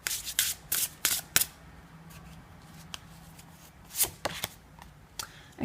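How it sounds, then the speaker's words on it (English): Tarot cards are shuffled and drawn in a quiet room, giving several quick papery riffles and slaps in bursts near the start and again near the end, with softer rustling in between. "Let's see what other cards come up"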